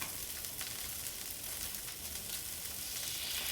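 A steady, fairly quiet sizzle of an egg frying on a Blackstone flat top griddle, continuous crackling hiss throughout with no talk.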